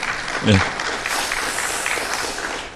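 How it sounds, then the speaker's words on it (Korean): An audience at a Korean National Assembly advisory session applauds for a law professor introduced to present, steady clapping throughout with a brief voice near the start. "예, 박수 치시려면 화끈히 치셔도 됩니다."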